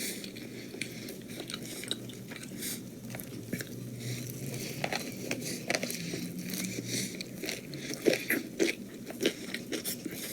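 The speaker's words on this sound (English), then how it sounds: "Don't you just love those chewing sounds?" Up-close chewing of a spicy burger: wet, crunchy bites and mastication repeat steadily for several seconds, with sharper crunches toward the end and no talking.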